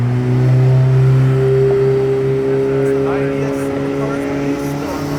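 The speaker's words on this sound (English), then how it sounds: "The Ferrari 488 Pista is driving by." A Ferrari 488 Pista drives by, its engine note holding steady and loud before gradually fading, with crowd chatter and voices mixed in beneath.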